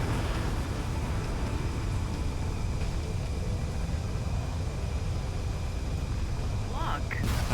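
Orbital ion cannon strike in a video game, heard as continuous loud low rumbling and roaring blasts that persist throughout, with a short rising tone near the end.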